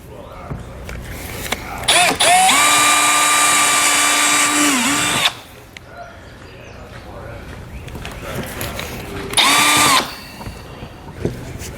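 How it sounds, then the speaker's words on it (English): A power drill with a small bit drills out the centers of rivets in a vehicle's wheel well during a trailer hitch installation. The drill runs in two bursts, one long steady whine and a shorter one later, with quieter handling noise between them. "We need to drill out the center and remove those."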